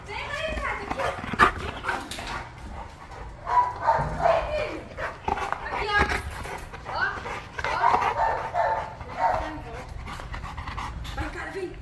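A large, heavy pit bull, one of several big males in a kennel, barks and pants in short bursts up close, with a person talking over much of it.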